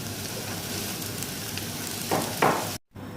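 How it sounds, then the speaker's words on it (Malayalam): Onions frying in oil in a pan for a hotel-style fish curry, giving a steady close sizzle throughout with a couple of brief louder stirring bursts near the end. "ഉള്ളി ഏകദേശം ഇത്രയ്ക്കൊന്ന് വഴന്ന് വന്നാൽ മതി, ഒരുപാട് കളർ മാറാനൊന്നും നിൽക്കണ്ട."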